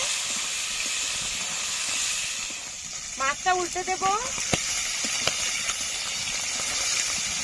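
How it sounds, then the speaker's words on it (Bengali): Live singhi fish frying in oil, spitting and splattering with a steady loud hiss throughout, while a voice speaks briefly over it midway. "মাছগুলো ভাজা হয়ে গেছে, এখন নামিয়ে দেব। খুব ছিটছে"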